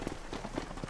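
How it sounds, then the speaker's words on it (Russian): Faint patter of rain in a thunderstorm in Red Dead Redemption, soft irregular drops and hoof-like taps under a low hiss, distant and quiet. "работать под дождем в грозе"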